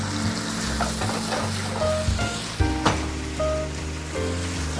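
Soy sauce hits a hot pan of pork tenderloin, a steady broadband sizzle with a sharp hiss burst near the midpoint, alongside stirring and faint utensil taps, no voices.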